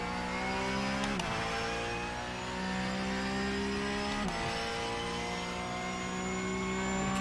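A Porsche GT3 race car in the iRacing sim holds a loud, steady engine note with a high whine. Two sharp gearshift breaks cut in, one around the first second and another past the fourth, before it climbs again.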